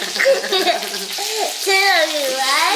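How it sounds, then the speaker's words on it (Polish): Fish sizzles and crackles in a pan, with voices and chatter over the frying. "Więc smażymy, co tu jest na patelni?"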